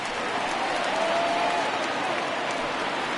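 A crowd in the baseball video game MLB The Show 20 cheers and claps at a ballpark, a dense, steady wash of applause from a distance with no clear voices on top.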